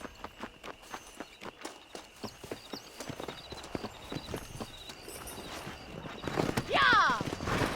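Horse hooves clip-clop at a steady walking rhythm while riding in Red Dead Redemption, the steps growing quicker toward the end, with a brief whinny-like sound and other game noise near the close.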